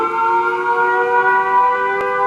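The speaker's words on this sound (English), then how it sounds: "Number 4 is Russian Cold War Siren." Russian Cold War siren holding a steady, dense multi-tone wail at moderate loudness, continuous and unbroken throughout, with a faint brief click near the end.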